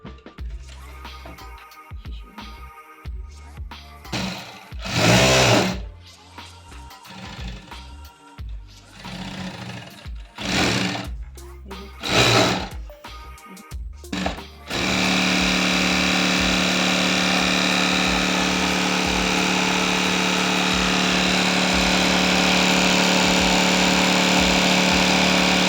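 A Jack F5 industrial sewing machine starts up after a stretch of handling clicks and clunks, then runs at a steady, loud, continuous whir close by for about ten seconds.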